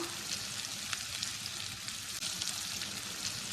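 Onions softened in a pan for egg masala, with tomato about to go in: a continuous close, even frying hiss with faint crackles and no voices.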